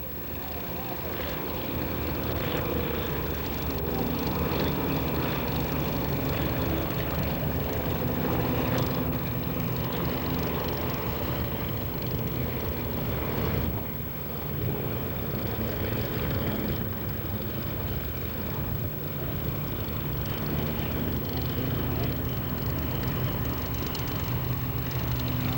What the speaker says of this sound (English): Nice little biplane, real smooth to fly by.